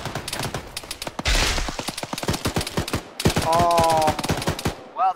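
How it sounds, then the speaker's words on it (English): Video game combat with rapid, loud bursts of gunfire cracking in quick succession and a broad explosive blast from a grenade early on, with a brief voice near the end. "Someone just threw a grenade."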